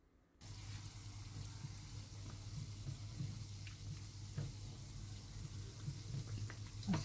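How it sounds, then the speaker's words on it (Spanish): Egg-battered tuna and cheese sandwich bites frying in plenty of oil in a pan on a hob, a steady close sizzle starting after a brief quiet moment, with small clinks and spatters throughout. "Rebozo los cortados en el huevo y los voy friendo."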